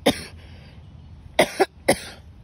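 Three sharp coughs, one at the start and a quick double cough later, close to the microphone with quiet pauses between.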